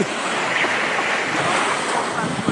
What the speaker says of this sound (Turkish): dalga buradan geliyor zaten ona doğru yüzüyor